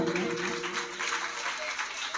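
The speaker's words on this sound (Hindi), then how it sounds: "जोरदार तालियां।" An audience at a Hindu Bhagavat Katha religious discourse claps loudly for the hosting family's kanyadan offering, a dense continuous wash of hands lasting a couple of seconds, with faint tonal music or voice underneath.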